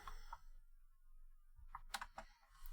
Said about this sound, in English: Typing on the wrong screen.